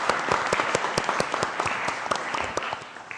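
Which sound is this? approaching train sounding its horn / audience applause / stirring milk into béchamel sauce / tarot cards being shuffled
audience applause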